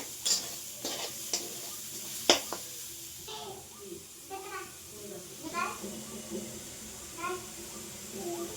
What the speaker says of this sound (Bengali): আমি লো স্টিমে একটু নেড়ে চেড়ে ভেজে নিচ্ছি নারকেল কোড়া চিনিটা একসাথে